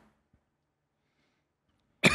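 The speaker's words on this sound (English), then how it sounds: "I had that dry cough" A single dry cough from a man at the very end of a near-silent stretch, short and close.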